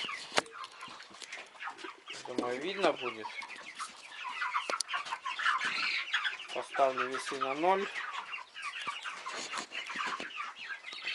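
Chickens cluck in short bursts, up close, with a person talking over much of it while weighing a broiler chick.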